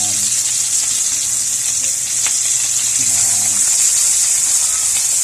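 Food fries in hot cooking oil with a loud, even sizzle that holds steady from start to finish, over a low background hum.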